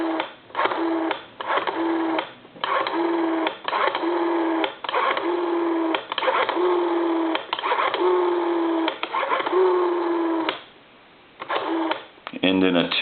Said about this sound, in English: Now we're going to go ahead and dial some numbers.